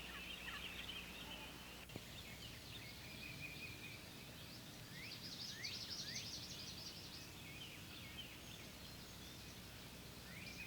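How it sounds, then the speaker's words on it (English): Eastern wild turkeys give a lost call, a run of high yelping notes repeated through the clip over a steady rustling outdoor background, fairly distant and moderate in level. "The lost call is used by both sexes when looking for company."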